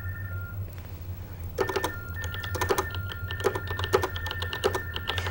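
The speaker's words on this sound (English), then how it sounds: "the operator is typing everything that Jubina is saying on the other end." A relay service operator types on a computer keyboard, with irregular bursts of clicking keystrokes starting partway in and continuing to the end, alongside a steady electronic tone and low background hum.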